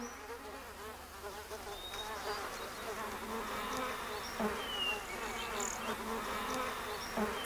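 A dense, steady buzzing of rock bees swarming at their hive, with a wasp hovering close by. The drone stays continuous and fairly loud throughout, with occasional nearer wingbeat passes.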